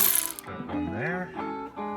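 Ratchet wrench loosening an 18 mm brake caliper bolt on a van, a short run of close mechanical clicking and pawl ratcheting.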